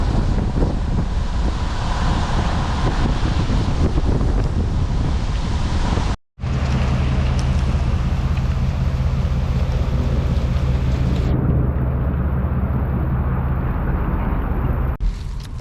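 Rain shower beginning on a farm during earlage chopping, with wind buffeting the microphone and a steady wash of falling rain; after a brief cut, a low engine-like rumble joins the continuous rain and wind noise.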